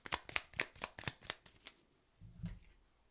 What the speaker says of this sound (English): So let's pull a clarifying card for the Queen of Cups and see what else comes through.